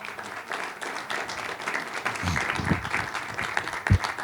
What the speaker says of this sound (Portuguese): Aplaude ao Senhor agora.